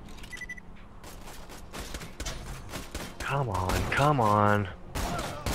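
Gunfire in the first-person shooter Borderlands 2 comes through as a run of quick shots and thumps, mixed with game effects while a player talks briefly over the action.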